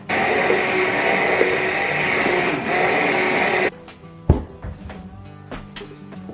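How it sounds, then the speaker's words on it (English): An immersion blender purees a pot of tromboncino squash soup in a loud, steady whir for about three and a half seconds, then cuts off, leaving quiet kitchen clatter and a few light knocks. "now I'm taking my immersion blender and I'm going to mix it all up"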